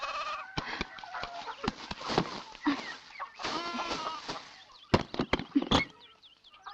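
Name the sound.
hen clucking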